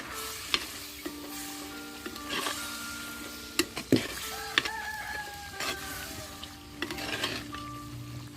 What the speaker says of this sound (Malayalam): ഒരു തക്കാളി നീളത്തിൽ കട്ട് ചെയ്തതും കൂടെ ചേർത്തിട്ട് നന്നായിട്ട് ഇതിനെ യോജിപ്പിക്കാം